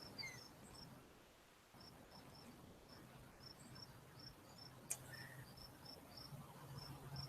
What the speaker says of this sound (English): Can you hear the peepers?